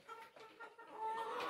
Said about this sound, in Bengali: চলুন একটা মুরগি ধরি আমি।